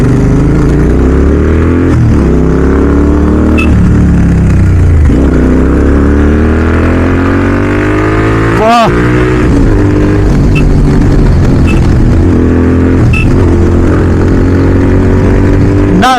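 Royal Enfield GT650 motorcycle fitted with a Red Rooster aftermarket exhaust, revving hard and holding loud rising engine note with repeated throttle blips and a sharp pop near the middle, close and continuous throughout.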